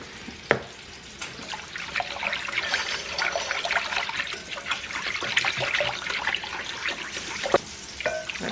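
Water trickles and pours steadily into a cooking pot of beef broth for a moonshine apples dish, a continuous close splashing stream with a couple of sharp clinks.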